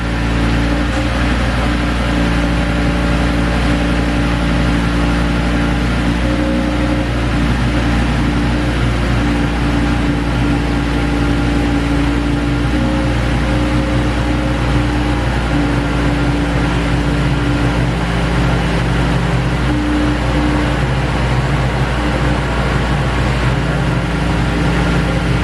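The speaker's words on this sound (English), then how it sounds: "I've just gone reverse, neutral, drive, neutral, reverse, back to park, holding it in each one for 3 seconds" An Audi RS3 with freshly replaced gearbox mechatronics idles steadily while the transmission is shifted through reverse, neutral, drive and park, giving a constant close engine hum with a faint whine on top and no talk.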